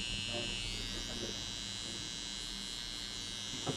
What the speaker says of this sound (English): I will just flick the clipper here just to match between my fade and the top